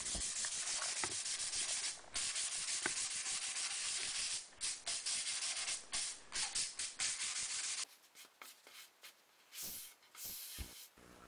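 Hand sanding of a reclaimed wood table with 220 grit sandpaper, close raspy scratching strokes in an uneven back-and-forth rhythm, steady at first then breaking into shorter scuffs.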